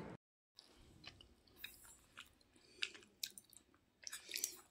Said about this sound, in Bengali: এই যে বাদাম খাচ্ছি বন্ধুরা